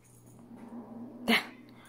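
A cat's quiet, low, continuous growl rumbles steadily while it uses a scratching post, broken once by a brief sharp rustle near the end.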